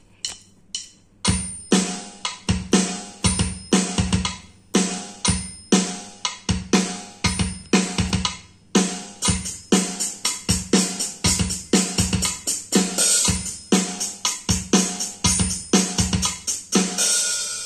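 A programmed drum rhythm plays from a Casio CT-X keyboard, sharp regular hits in a steady beat that grows busier partway through, loud and clean with no voices.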